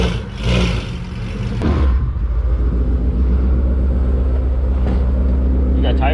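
A car pulls out nearby with a low engine rumble that swells and holds steady, loud and close, with voices briefly heard at the start.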